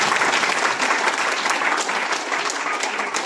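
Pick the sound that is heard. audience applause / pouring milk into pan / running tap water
audience applause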